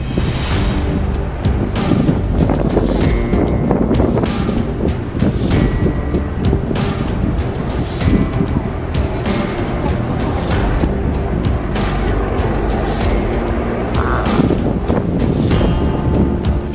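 Strong winds of up to 100 km/h blow at sea off the French coast around ships, a loud, unbroken roar of gusts buffeting the microphone over crashing surf.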